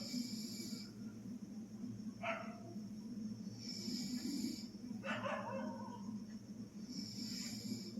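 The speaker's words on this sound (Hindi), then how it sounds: "एक भौंक रहा है, एक शांत हो रहा है" Dogs bark at night, two short separate outbursts several seconds apart, moderately distant over a low steady background hum, with no voices.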